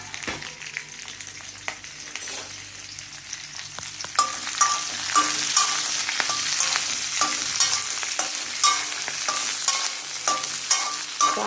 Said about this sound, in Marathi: तेल तापले. आता ह्या तेलात भेंड्या भाजून घ्या.